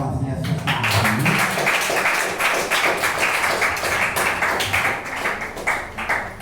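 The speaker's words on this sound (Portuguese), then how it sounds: "exalte a Jesus com palmas nessa tarde." A Pentecostal church congregation in Eunápolis, Brazil, claps hands in steady rhythmic praise, bright and dense throughout, with a voice briefly heard at the start.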